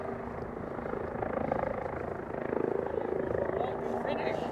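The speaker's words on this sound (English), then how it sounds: "Helicopter hovering around over the barn over there, the farm." A helicopter hovers over a farm barn, giving a steady, distant rotor drone that rises and falls slightly, with voices murmuring in the foreground.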